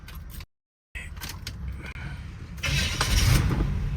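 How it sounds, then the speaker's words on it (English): Car engine starting up after a wheel repair at a custom car shop, with some mechanical clunks and a brief gap, then the engine catching and running with a louder broadband roar near the end, close and without talk. "So this car starts up."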